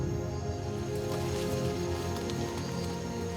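Steady rain falls through the French Guiana jungle, a dense, even patter of drops on leaves and surfaces that holds constant throughout with no voices.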